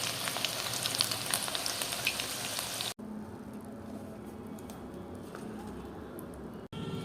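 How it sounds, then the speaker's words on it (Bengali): Potatoes frying in hot oil give a loud, steady sizzle throughout, with a brief break near the middle and a short gap near the end. "এই দেখো বন্ধুরা, আমার আলুটা ভাজা হয়ে যাচ্ছে"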